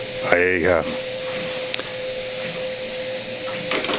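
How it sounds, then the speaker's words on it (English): An 1860s Pratt & Whitney rifling machine working its ratchet indexing system on a barrel, with a rising mechanical whine early on, then sharp isolated clicks and ticks over a steady hum under someone talking. "we can see the ratchet system here at work"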